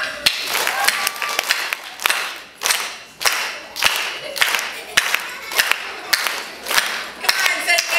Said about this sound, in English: Do you guys want to clap?